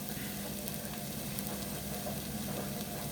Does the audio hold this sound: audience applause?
no